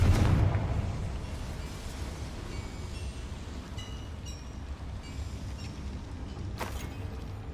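A Confringo explosion spell bursts inside a mine in the Hogwarts Legacy video game. A sharp, heavy blast hits at the start, then settles into a low, steady rumble and ambient hum with a faint crackle near the end.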